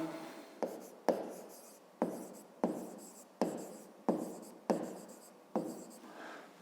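A pen scratches on paper in a series of about nine short, evenly spaced strokes, each starting sharply and fading. It is close and quiet, with no talk.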